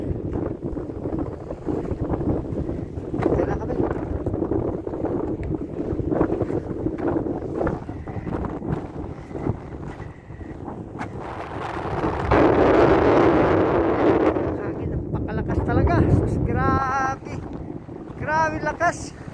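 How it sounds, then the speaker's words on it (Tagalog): Strong wind buffeting a small boat at sea while scouting a hookah diving spot, a constant rough rumble and gusty roar with water noise swelling midway and a voice briefly talking over it. "Nagkapakang hangin."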